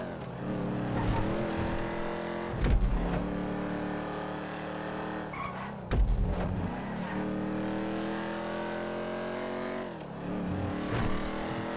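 Car driven in GTA 5, engine droning and rising through gears in repeated revving runs, with short thuds and bumps between them, loud and close with no talk.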